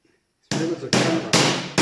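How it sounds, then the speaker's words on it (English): Four loud, sharp hammer blows come at a steady pace, close by, as rivets are driven to join a woodstove leveling platform. "now we just got to start riveting the thing together"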